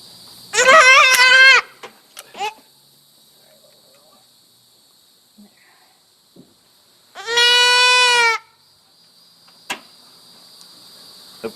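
A young female goat gives two loud, wavering bleats while having her ear tagged in a goat chute at a farm, with a quiet pause between the cries and soft clicks and knocks from the handling.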